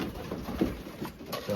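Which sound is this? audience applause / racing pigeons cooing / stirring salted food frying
racing pigeons cooing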